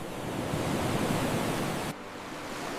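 Pacific Ocean swells and surf make a steady, dense wash of broadband roar that drops abruptly to a slightly quieter rush near the end.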